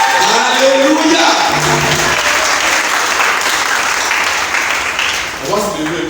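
A church congregation breaks into loud, sustained applause with cheering voices mixed in, the clapping dense and close throughout.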